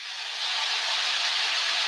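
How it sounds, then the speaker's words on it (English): A splash of water hitting hot oil in a pan as rice dishes are cooked, part frying and part steaming: a steady, close, broad sizzling hiss that swells slightly and holds without a break. "I'm adding a splash of water now, so I'm kind of part oil, part steam frying"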